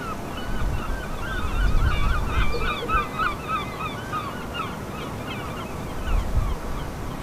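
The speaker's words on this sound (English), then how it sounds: "We can hear seagulls circling on the thermals above the town." Several gulls circling above a town call repeatedly from a distance, overlapping cries above a steady wash of wind and background noise.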